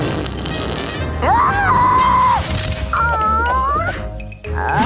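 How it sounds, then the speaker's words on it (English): A cartoon fart sound effect in a kids' animation about eating, heard as loud, squeaky, wobbling rising and falling tones with a comic stretched pitch, over busy background music and effects. "Ah, fart cloud!"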